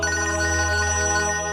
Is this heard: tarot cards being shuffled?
no